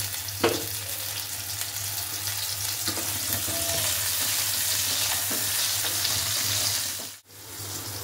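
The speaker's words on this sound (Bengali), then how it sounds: "এবার আলুগুলো এতে ভেজে নেব।" Potatoes coated in salt and turmeric fry in oil in a wok for mutton curry, giving a steady, close sizzle with a few stirring knocks and a brief dip near the end.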